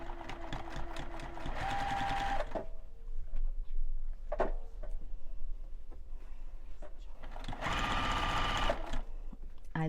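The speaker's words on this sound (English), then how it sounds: "I love this Juki machine" A Juki sewing machine stitches a Santa hat pillow in two loud bursts of rapid, steady whirring, separated by a quieter pause with scattered clicks and a brief knock.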